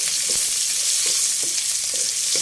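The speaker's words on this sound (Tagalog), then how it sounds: "Nilagay ko na po ang sibuyas at luya kasi masusunog na ang dilis." Onion and ginger frying together with small dried anchovies in a hot pan, giving a loud, continuous sizzle with soft, regular stirring scrapes underneath.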